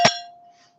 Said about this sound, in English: Let's have a little bell here.